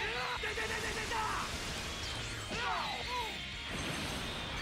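A ki blast attack from a Dragon Ball fighting game, a burst of crashing, whooshing energy effects that comes in several overlapping hits over a few seconds, with game sounds layered on top.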